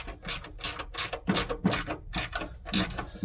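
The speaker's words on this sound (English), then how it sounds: "you do it with a ratchet spanner the right way around, of course" A ratchet spanner tightens a bolt on a Range Rover in a home workshop, giving a close, loud run of rapid clicking bursts, about eight strokes in quick, even rhythm, with no talk.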